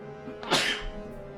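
A single sharp sneeze bursts out mid-clip during a casual online chess game, loud and close against a low steady background hum.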